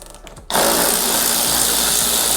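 A power driver spins out a T27 Torx bolt from the bottom corner speaker mount of a 2024 Harley-Davidson Road Glide fairing, kicking in after a half-second of quiet and holding a steady, loud, close whir.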